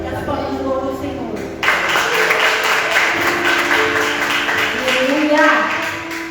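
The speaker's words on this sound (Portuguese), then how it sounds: "Que as palmas louvam o Senhor." A congregation at a deliverance church service claps along while a voice speaks or sings over them; the clapping grows noticeably denser and louder partway through and keeps going steadily to the end.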